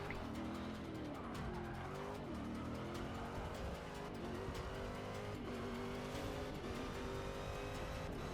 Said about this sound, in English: I like how fast this car picks up speed too.